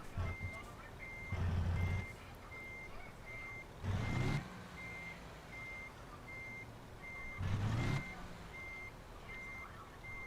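A steady, evenly spaced electronic reversing beep repeats throughout as a heavy truck backs in within American Truck Simulator, with three louder bursts of engine rumble rising and fading under the beeps.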